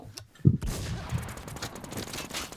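Rapid gunfire bursts in the shooter game Warz, with a sharp close crack followed by rattling shots and noisy battle clatter.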